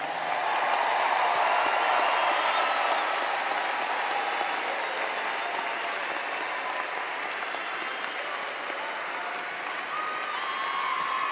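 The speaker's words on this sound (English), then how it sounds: "Give yourself a round of applause." Sustained loud applause from a large crowd at a Florida State University commencement, dense clapping that continues steadily for over ten seconds.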